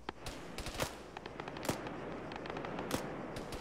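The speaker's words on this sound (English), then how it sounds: "Who's shooting us?" Gunfire in the military shooter Arma 3: sharp, scattered shots crack out at irregular intervals, with a few louder reports standing above a steady background of distant rattling fire and ambience.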